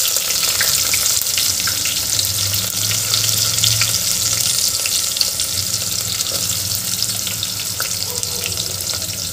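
Chopped onion sizzles in hot oil with whole spices in a pan for masale bhat, giving a steady close hiss and crackle throughout.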